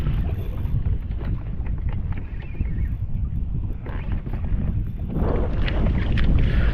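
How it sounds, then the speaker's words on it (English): Strong wind buffets the microphone during a kayak fishing tournament, a continuous heavy rumble with gusty surges and faint water splashes, loud and unbroken throughout. "You can tell how windy it is"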